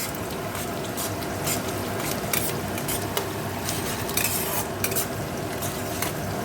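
Onion fries in oil in a wok with whole garam masala and dried chilli, a steady close sizzle with occasional spatula scrapes and stirring against the pan.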